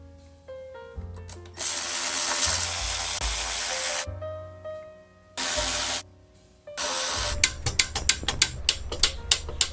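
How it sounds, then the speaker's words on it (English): Clip-on bolts on a crash-damaged BMW S1000RR motorcycle being removed and refitted with Loctite, using a loud whirring power tool that runs in long and short bursts, followed by a quick series of rattling ratchet clicks. "I'm going to start pulling out the hardwares one by one, and adding some Loctites."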